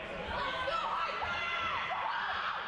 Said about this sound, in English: Oh man, Hyper got the whole cheering squad there